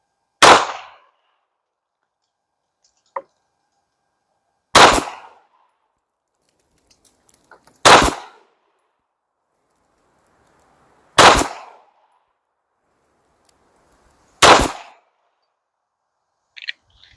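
A Canik Rival pistol fires Independence ammunition outdoors at a range, with five sharp, loud single shots spaced a few seconds apart and faint small clicks between them.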